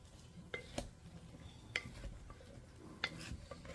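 Chicken, potatoes and onions being stirred in a thin grill pan, with a few sharp scrapes and clinks of a utensil against the metal over a faint sizzle, spaced irregularly and close by.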